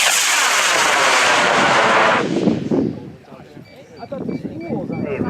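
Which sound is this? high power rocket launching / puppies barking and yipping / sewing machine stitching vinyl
high power rocket launching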